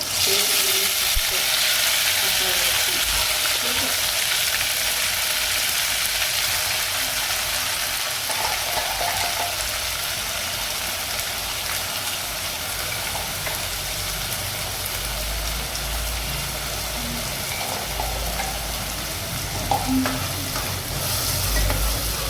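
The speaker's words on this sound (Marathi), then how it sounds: "गरम तेलामध्ये मसाला टाकला की चटका बसणार" Masala spice paste frying in hot oil for a village-style mutton rassa, a loud, dense, continuous hiss and sizzle filling the whole stretch, with a faint low rumble toward the end and no clear speech.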